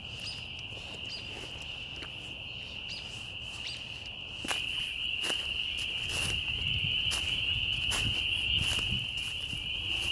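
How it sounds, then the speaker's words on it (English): A loud night chorus of frogs calling at Turtle Island, a dense continuous high trilling drone that swells louder halfway through, with scattered sharp clicks and calls standing out over it, near and enveloping. "This is the frog rave at Turtle Island. Man, it's really loud."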